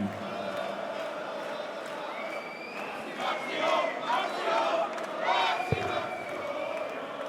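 A partisan darts crowd at a Rob Cross versus Max Hopp match roars and chants in rising swells, with bursts of cheering and shouting that hold across the whole stretch, fairly loud and close.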